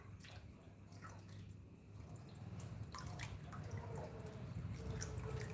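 Mushrooms are washed by hand in water, giving soft, close splashing, dripping and sloshing. The sound is fairly quiet and continuous and grows slightly busier toward the end.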